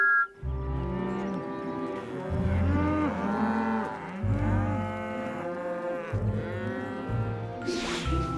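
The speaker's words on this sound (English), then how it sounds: "Yeah, the cows sure do like it." Cartoon cows mooing on a farm, several long, deep moos in a row, loud and close with short pauses between them and little else underneath.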